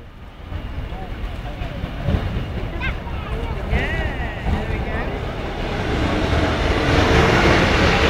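A Class 156 diesel unit, number 156473, arriving at Lincoln Central station, with a broad steady rumble and some wind noise that slowly grows louder toward the end, a few faint squeals mixed in, and no talk.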